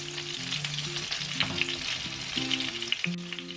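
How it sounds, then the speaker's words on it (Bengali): Eggplant pieces sizzle and crackle in hot mustard oil in a pan, a steady close frying hiss with small pops and faint stirring taps. "একটা প্যানে খানিকটা সর্ষের তেল ভালো মতো গরম করে নিয়ে বেগুনের টুকরোগুলোকে প্রথমে ভেজে নেব"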